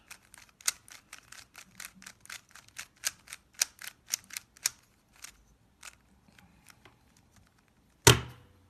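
A Rubik's cube's sides being twisted produce a quick run of sharp plastic clicks and snaps. The bursts come at an irregular pace, thin out toward the end, and finish with one louder clack.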